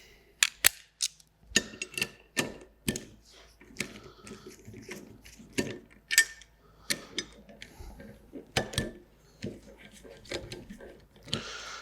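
12mm bolts are run down to fasten a valve spring compressor tool to an EJ SOHC cylinder head, giving close, sharp mechanical clicks and rattling bursts in an uneven ratchet-like rhythm.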